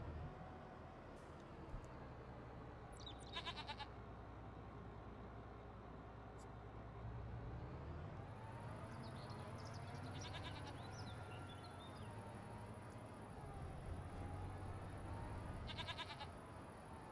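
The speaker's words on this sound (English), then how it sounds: "So I hear the old goats" Goats bleating in the Farming Simulator 25 video game, short wavering calls repeating faintly over a steady low machinery drone.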